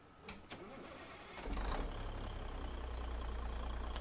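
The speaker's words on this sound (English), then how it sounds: "I'll start the engine from the outside this time." A Cummins N14 diesel engine in a Pinga T800 / Kenworth W900 truck in American Truck Simulator, started from outside the cab: a few faint clicks, then the engine catches and settles into a loud, steady low rumbling idle.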